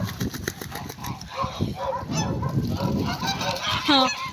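Geese honk repeatedly among other farmyard waterfowl, a close, busy run of loud nasal calls that builds toward a strong honk near the end.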